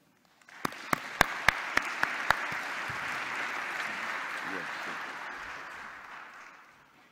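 An audience at a lecture in Melbourne applauds to welcome Stuart Russell, opening with a few loud, distinct claps, then swelling into steady, full applause that slowly fades out.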